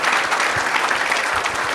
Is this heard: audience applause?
yes